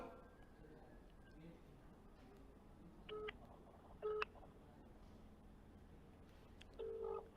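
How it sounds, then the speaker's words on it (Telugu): Phone dialing tones from a call being placed, three short beep bursts spaced about a second apart at low level, over quiet room noise with faint speech in the background. "శ్రీతేజ్కి కాల్ చేస్తున్నాను."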